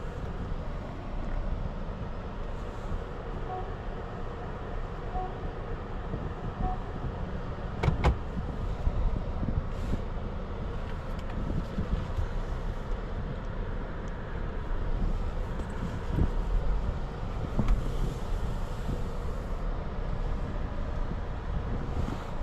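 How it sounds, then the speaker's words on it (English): Steady road and wind rumble fills the cabin of a 2025 Lexus TX 350 Premium cruising on the road, with a few faint knocks and clicks over the constant drone. "let's get this TX 350 Premium out on the road"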